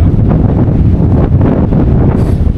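Strong wind on the Kondarangi hilltop buffets the microphone, a loud, continuous low roar with gusty surges and no pauses.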